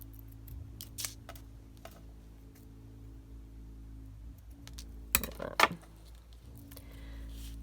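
Scissors snipping out bling embellishments for a craft cluster, a few sparse, quiet cuts and clicks in a calm room, with a sharper burst of snips near the end.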